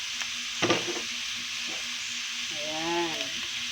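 Spicy squid adobo sizzling loudly in a pan as sauce is poured in, a steady hiss with brief clatters of stirring and a rising burst of bubbling near the end.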